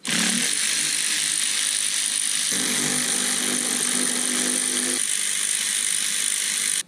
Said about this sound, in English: So it's 3 T30 Torx, so we'll loosen them up.